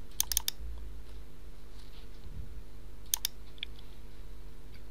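Two quick pairs of sharp computer mouse clicks, close and crisp, each a double click to install screen recording software, set against a faint steady electrical hum.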